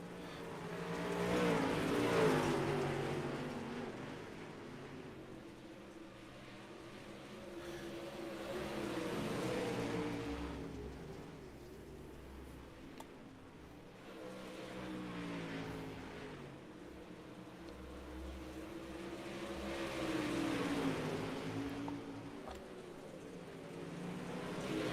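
Modified touring race cars circle a dirt speedway at USA International Speedway, their engines rising and falling in long, distant swells as the pack passes by, muffled and moderately loud.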